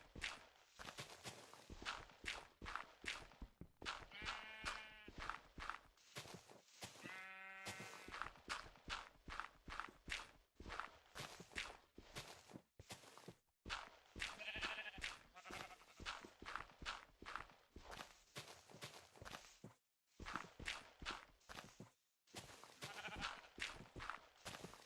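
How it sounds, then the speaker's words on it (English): Minecraft game sounds with sheep bleating several times amid a dense, steady run of clicking footstep and block sounds, loud and close throughout. "Freaking sheep, dude."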